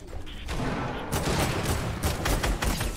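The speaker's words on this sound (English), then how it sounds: "I'm shooting at those guys" Rapid bursts of video game gunfire crackle in dense, overlapping volleys, steady and moderately loud across the whole stretch with no talking.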